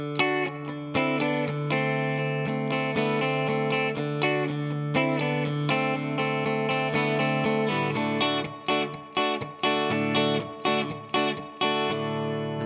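An electric guitar plays a strummed, effects-laden intro to a song in D, with sustained chords giving way to choppy rhythmic stabs toward the end.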